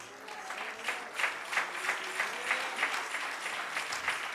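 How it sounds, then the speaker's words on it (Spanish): Church congregation applauding during a sermon, a moderate burst of clapping with a rhythmic, pulsing feel at roughly regular beats, fairly close and steady with no speech over it. "Dele un aplauso a Dios."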